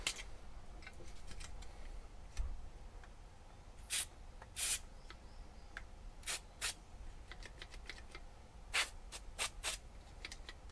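Spray grease applied to a brake pedal on a Suzuki Every Turbo van, DA52V, in short hissing bursts of varying length, close and fairly quiet, with faint clicks between and no talk.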